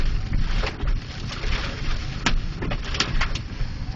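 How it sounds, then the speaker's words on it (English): Strong wind roars steadily through a hailstorm, a dense, rushing wash of noise with scattered sharp impacts and brief gusts standing out, close and fairly loud with no talking. "the wind is blowing really, really hard"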